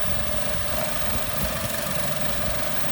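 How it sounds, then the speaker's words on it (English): A Chevy Cruze with about 150,000 miles idles with a suspected vacuum leak, giving a steady close-up engine drone with faint knocking and shaking vibration, continuous and without talk. "Sounds like it's got a vacuum leak."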